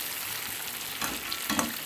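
Meat being fried down in spice masala for biryani, a soft steady sizzle close by with a couple of brief stirring scrapes, quiet and without speech.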